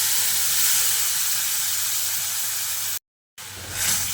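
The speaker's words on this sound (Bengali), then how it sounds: "এবার আমি মিক্সির মধ্যে অল্প করে জল নিয়ে এর মধ্যে দিয়ে দিচ্ছি" Water from a mixer jar poured into spices frying with gathi kochu (taro), a loud, steady hissing sizzle that cuts out briefly, then surges back up.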